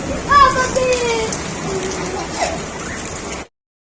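Heavy rain falling outdoors, a steady hiss with faint scattered whistles and brief voices in the background, ending abruptly.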